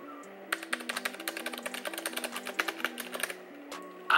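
Rapid typing on a Ducky One 2 Mini mechanical keyboard with Cherry MX Red switches gives a steady patter of soft, fairly quiet clacks for about three seconds over a low background hum.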